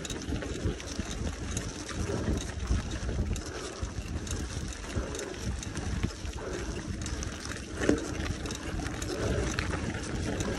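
Steady broadband wind and water noise around a boat out on the water, a constant outdoor roar at even loudness with no clear engine pattern standing out.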